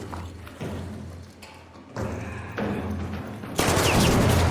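Gunfire in ARC Raiders, heard as rapid shots and thuds in shifting bursts that grow louder toward the end, dense and close with no talk.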